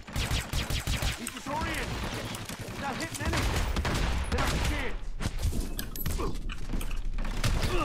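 Gunfire in the video game Hitman: Absolution, with dense rapid bursts and heavy thuds that rise louder midway and stay sustained. Someone talks over the shooting at times.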